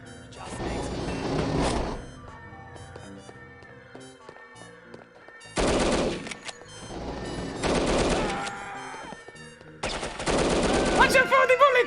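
Bursts of rapid automatic gunfire come from the old PC spy game No One Lives Forever, arriving in four loud volleys separated by quieter stretches of game music and effects.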